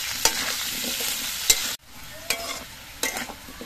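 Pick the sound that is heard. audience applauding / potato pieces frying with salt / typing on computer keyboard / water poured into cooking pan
potato pieces frying with salt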